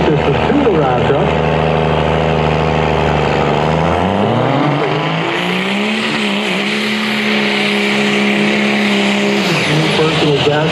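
A two-wheel drive race truck with a fast fuel system roars loud and close at an off-road racing event, its engine pitch climbing and shifting through gears in a sustained run, with an announcer talking over it.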